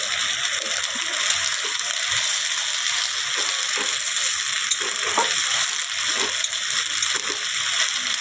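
Mutton sizzles and fries with ginger-garlic paste in a pan, a steady close hiss broken by soft scraping stirs, with no voices.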